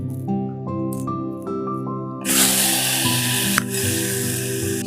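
Mustard seeds, cumin, four dried red chillies and four garlic cloves hit hot oil for a tempering for mango dal, erupting into a loud, close sizzle after a couple of seconds of tonal background music.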